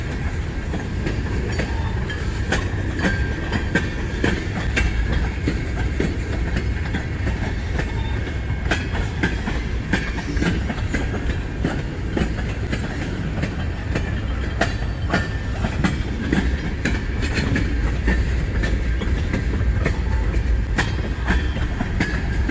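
A freight train with two engines rumbles steadily past close by at Emmett, Michigan, wheels clattering over rail joints in a continuous loud roar with occasional faint squeals.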